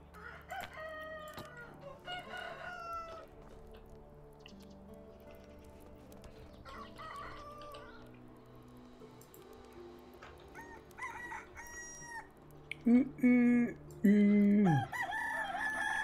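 Chickens and roosters in the medieval farming game Medieval Dynasty, scattered clucking and crowing all around, growing louder and closer toward the end, with faint hoof clip-clop in the background.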